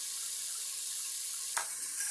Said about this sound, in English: Completely drain out the water.